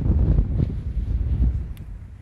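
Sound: wind blowing

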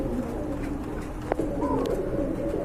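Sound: pair of blue Rajgolla pigeons cooing

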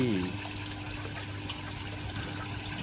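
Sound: garden waterfall fountain trickling

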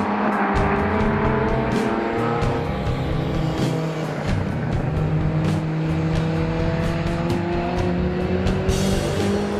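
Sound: Marcos Volvo GT race car going into gravel

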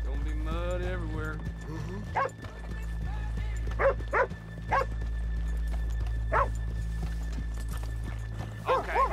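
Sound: horses' hooves clip-clopping in the video game Red Dead Redemption 2

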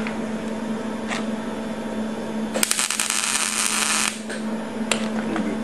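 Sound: tack welding metal on a tanker project

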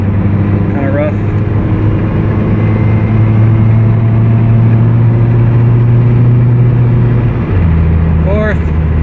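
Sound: Toyota MR2 engine running while shifting gears

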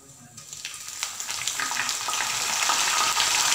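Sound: cumin seeds and curry leaves frying in hot oil

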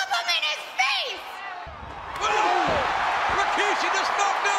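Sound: wrestler knocking a man down in a wrestling ring

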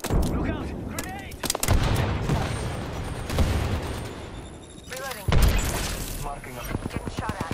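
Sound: gunfire in a video game

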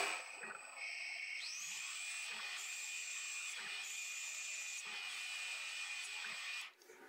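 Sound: lathe with electronic lead screw cutting a thread

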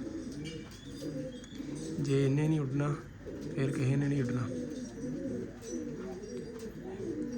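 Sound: Ferozpuri pigeon cooing

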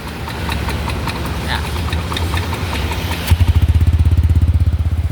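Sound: Yamaha Nmax scooter engine running after repair

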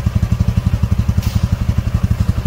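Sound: Royal Enfield Classic 350 engine idling after servicing

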